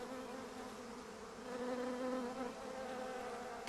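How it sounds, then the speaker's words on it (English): Bees buzzing among spring flowers, a close, continuous hum that swells and fades slightly as insects move about, heard alone with no talk. "The sound of bees is the sound of spring, as they make their way from flower to flower"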